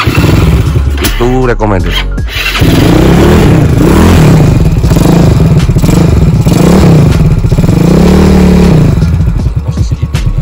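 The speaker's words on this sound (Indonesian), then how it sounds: "Suaranya halus banget guys, bahkan hampir sama seperti knalpot standar" Yamaha Mio scooter engine revving through an aftermarket exhaust, with repeated smooth, fairly quiet rising and falling revs close to the microphone while someone speaks over it.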